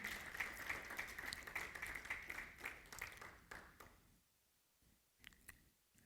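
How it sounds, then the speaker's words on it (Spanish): A church congregation breaks into loud, sustained applause, dense clapping that fades out after about four seconds, leaving near quiet with a few scattered claps at the end. "Dele un fuerte aplauso a la gloria del Señor."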